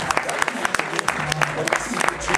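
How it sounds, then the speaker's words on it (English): A small audience at a Brazilian jiu-jitsu demonstration gives brief, scattered clapping, with sharp individual claps close by, and a voice speaking over it. "on peut les applaudir bien fort,"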